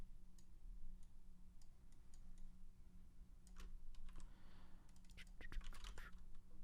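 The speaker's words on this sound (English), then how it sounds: "Why am I typing this and all of these things?" Quiet typing on a computer keyboard, with irregular bursts of soft clicks and taps over a low background hum. No one speaks.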